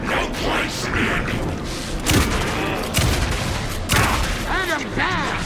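Gunfire in the horror game Alan Wake 2: a few sharp, heavy shots and booming bursts spaced a second or so apart, over a dense game soundscape with voices speaking.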